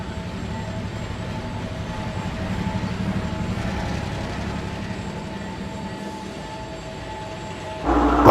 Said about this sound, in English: The diesels took him to the large smelter's shed.